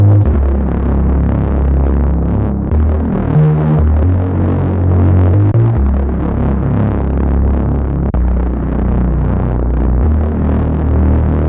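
A thick, gritty distorted synth bass drones loudly and continuously, shifting between low notes in a steady groove.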